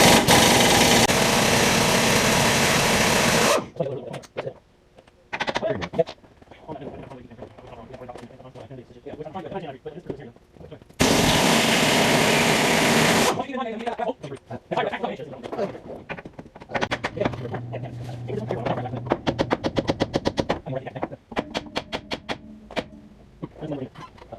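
A power impact gun takes bolts off a Loadstar truck's front end: two loud, sustained rattling bursts several seconds long, with people talking in the gaps between them.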